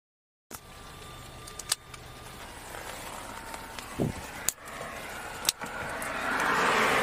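A van's engine idles steadily through a police stop at night, a constant low rumble with a few sharp clicks and knocks on top, no voices.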